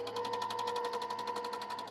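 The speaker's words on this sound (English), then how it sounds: "Now I'm going to sew these 2 pieces together." Sewing machine stitching quilt pieces together, a steady rapid needle chatter over a constant motor hum, close and continuous.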